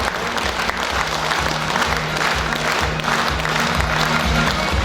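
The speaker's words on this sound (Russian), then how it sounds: "Бурные аплодисменты нашим трактористам," Loud, dense applause at an awards ceremony on a Russian agricultural workers' day honouring tractor drivers and machine operators, continuous clapping with a low rhythmic thump underneath.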